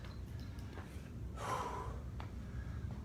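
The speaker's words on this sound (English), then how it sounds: "Couple of recovery breaths." After a timed workout set, a person takes a couple of heavy recovery breaths, with one loud gasping exhale in the middle and softer breathing around it, fairly quiet overall.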